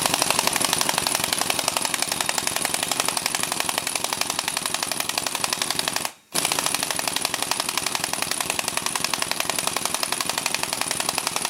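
A pneumatic impact wrench with a 17 mm socket hammers on a front shock absorber bolt of a 2008 Citroën C3 1.4 HDi, a steady loud rattling that runs throughout with one brief break midway.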